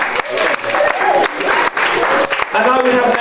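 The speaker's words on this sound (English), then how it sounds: "can we have an applause for Sophie" An audience applauds a woman named Sophie who has stayed through a 24-hour show, steady close clapping with bursts of cheering and talk mixed in.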